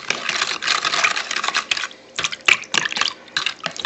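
Liquid marinade for deer roast jerky being stirred, close swishing and sloshing in irregular bursts with short pauses between strokes.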